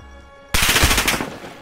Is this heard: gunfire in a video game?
yes